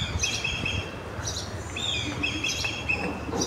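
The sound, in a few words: birds chirping outdoors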